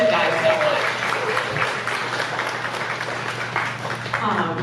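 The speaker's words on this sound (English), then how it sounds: "So, round of applause." An audience at the opening of a reading event at a writers museum claps in steady, moderate applause for several seconds, with a faint hum underneath and a voice briefly heard.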